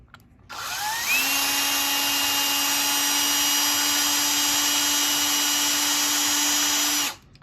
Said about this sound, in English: We're just making that pilot hole a little bit bigger